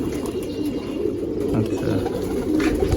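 Pigeons in a loft coo continuously, soft overlapping throaty calls close by, with faint rustling and no talk.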